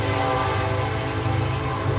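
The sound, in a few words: passing train with horn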